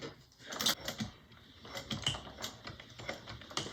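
A sewing machine stitches fabric with contrasting thread while a bag is being made, a rapid mechanical clatter in short uneven bursts, close and fairly quiet, with no talk.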